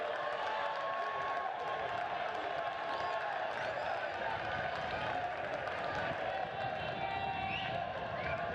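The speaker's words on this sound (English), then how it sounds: "And the crowd applauding the effort." Crowd at a 2022 CONCACAF women's qualifier football match between Dominica and Turks and Caicos Islands, applauding and cheering in a steady distant wash that lasts the whole stretch without pause.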